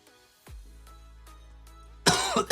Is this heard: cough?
yes